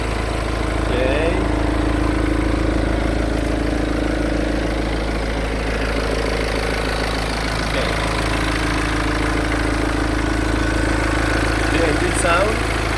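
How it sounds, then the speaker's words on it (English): Diesel engine of a 2015 BMW X4 20d xDrive idling with the engine bay open, a steady, even low rumble running throughout with faint background noise and a few light knocks. "Can you hear the sound? It's very regular, right? Stable sound. I guess the engine is very fine, very good."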